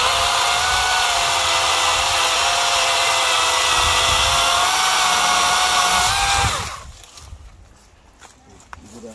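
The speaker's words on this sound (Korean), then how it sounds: "이 톱이 이렇게 생겼는데 아주 파워가 센 파워입니다" An electric hand saw runs hard on landscape tree branches, a loud high-pitched motor whine held steady for about six seconds before cutting off, leaving quieter background noise.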